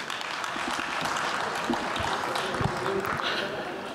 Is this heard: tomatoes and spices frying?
no